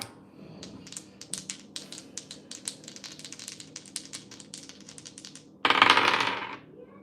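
Dice rattle and clatter in a rapid series of small hard clicks, ending in a brief louder burst as they settle, close and alone with no talking.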